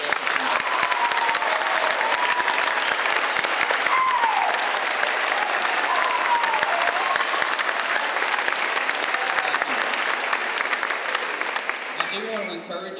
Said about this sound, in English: let's give them one more round of applause for their good effort tonight